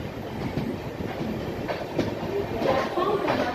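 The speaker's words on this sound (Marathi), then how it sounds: "ठाणे रेल्वे स्टेशन स्किप करत आहे सध्या आपली ट्रेन." Inside the Tejas Express as it runs through Thane station without stopping, a loud, continuous rumble of wheels on rails with clattering rhythmic clicks and faint squeals, and a voice talking underneath.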